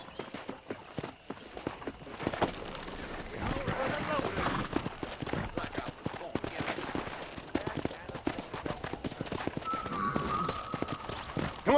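Horse hooves clip-clop in a fast steady rhythm through Red Dead Redemption, with continuous drumming under game sound and a short whinny-like tone near the end.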